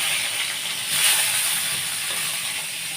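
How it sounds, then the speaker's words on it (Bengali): Aubergine pieces coated in salt and turmeric fry in hot hilsa fish oil, a steady close hiss of sizzling that holds for the full stretch with a slight swell near the start. "ইলিশ মাছের তেলের মধ্যে যে বেগুনগুলো নুন হলুদ দিয়ে মাখিয়ে যে ভাজা বসিয়েছিল"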